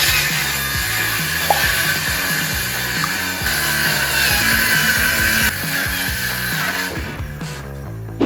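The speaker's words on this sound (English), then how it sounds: "so I could cut the board exactly in half at 24 inches" A power saw cuts a plywood board in half for garage shelves, a loud continuous whining and rasping cut near the mic, ending with the blade winding down.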